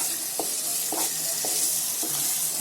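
Schezwan chutney cooking down in oil in a pan, a steady close sizzle with a few soft scrapes of the spoon every half second or so as it is stirred.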